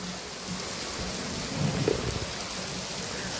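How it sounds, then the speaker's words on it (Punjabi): Heavy rain pours steadily on a village street, where water is filling the lane, making a dense, even roar of drops on hard surfaces with a slight swell midway and no talking. "ਦੇਖੋ ਜੀ ਬਹੁਤ ਮੀਂਹ ਉਤਰਿਆ"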